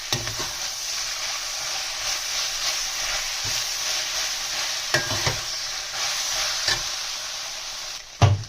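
Veg chowmein noodles with garlic chili sauce being stirred in a hot pan, a steady close sizzle and frying hiss with repeated scraping stirs and a louder clatter near the end.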